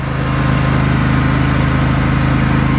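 A lawn tractor engine runs steadily at a close distance, a loud, even mechanical drone with a regular low pulse and no speech over it.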